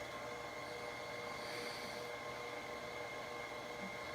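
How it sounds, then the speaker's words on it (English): An electric mixer whisks strawberry shortcake muffin batter with a steady, faint whirring motor hum that holds an even pitch throughout and has no voices over it. "We're gonna slowly turn this on and let it whisk, whisk"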